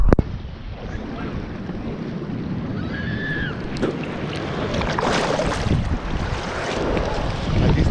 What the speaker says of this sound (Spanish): Ya empezaron a llegar las olas.